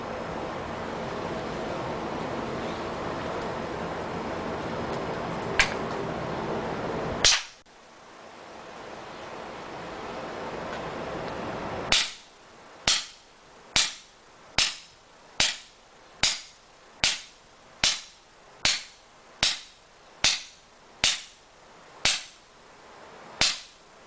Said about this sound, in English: Then I'll pull the trigger 14 times, or dry fire it, and then I'll put one more shot through at the end